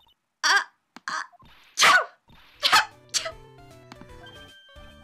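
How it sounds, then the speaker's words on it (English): Several loud, close sneezes burst out one after another from characters dusted with pepper in a Phoenix Wright: Ace Attorney courtroom game, followed by quieter game tones. "Nice! What a wonderful sneeze!"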